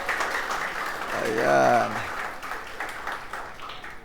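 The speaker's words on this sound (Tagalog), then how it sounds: "Yung the best na palakpak po para kay Lord." A church congregation claps in praise to the Lord, the applause rising and swelling midway while a preacher's voice talks over it.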